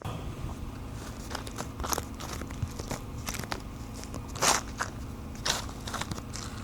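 An old tube of automotive body filler is squeezed by hand, giving quiet, irregular crunching and crackling over several seconds, with sharper crunches now and then from hardened lumps inside.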